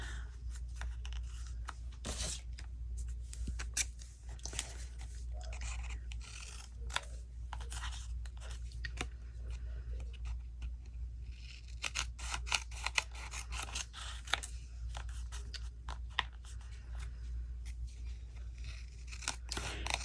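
Scissors snip through paper for a handmade slide-style ephemera piece: a steady run of crisp, close cutting strokes and rustles, with a low hum underneath.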